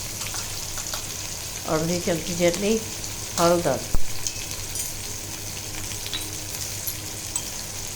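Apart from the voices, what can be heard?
spices sautéing in a pan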